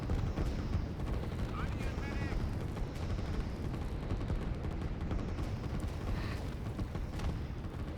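Artillery fires in the strategy game Line War as a battle plays out, with repeated thumping reports over a dense, steady roar of combat noise.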